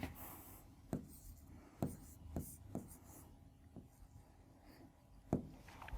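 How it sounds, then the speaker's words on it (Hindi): Chalk or marker strokes on a classroom board, a handful of short scratchy taps and scrapes spread irregularly, fairly close and quiet over a faint room hiss. "मैं लिख दूं यहाँ पे"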